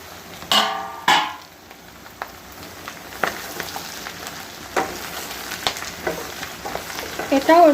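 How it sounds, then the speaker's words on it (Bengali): Potatoes, onion and oil potka frying together in a pan, a steady soft sizzle with sharper stirring clatters near the start and intermittent scrapes throughout. "এই যে আলু পেঁয়াজ আর তেল পটকাটা আরও ভাজা ভাজা হয়ে গেছে"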